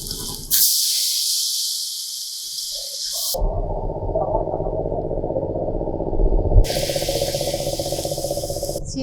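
Water poured into hot mustard oil with nigella seeds, slit green chillies, turmeric and chilli powder erupts in a loud hissing sizzle, then settles into a steady rumbling boil before the sharp hiss flares again.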